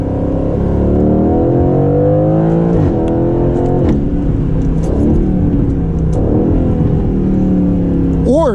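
A 2020 Aston Martin Vantage accelerates hard, its engine note climbing steeply and dropping at several gear changes, loud and close from inside the cabin.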